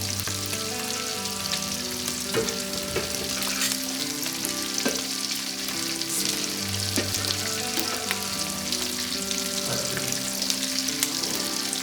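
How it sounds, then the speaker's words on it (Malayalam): Chicken pieces for chicken mandi frying in hot oil, a loud, continuous crackling sizzle close by with occasional stirring scrapes and bubbling pops throughout. "നമ്മുടെ ചിക്കൻ പൊരിച്ച് അങ്ങനെ റെഡിയായി"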